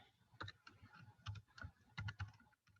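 Keys clattering on a computer keyboard during a lecture demo, with irregular bursts of quick keystrokes at close range, faint room tone between them and no voice.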